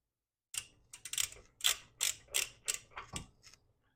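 A ratchet wrench tightens the rear wheel bearing hub nut on a Subaru, about ten quick, crisp clicking strokes close by in an otherwise quiet space, with short pauses between them.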